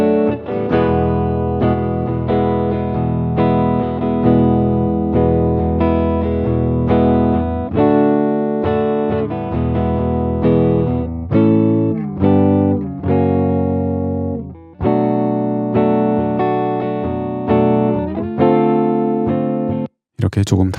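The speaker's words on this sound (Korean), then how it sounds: "모든 이펙터를 다 끄고 앰프의 생소리만 한번 들어보겠습니다." Clean electric guitar played through a Paradise Guitar Studio amp simulator with every effect switched off and the bright switch disabled, giving a dry, slightly muffled warm tone of sustained chords and melodic lines, close and steady for about twenty seconds.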